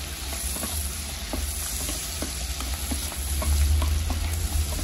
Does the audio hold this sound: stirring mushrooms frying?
yes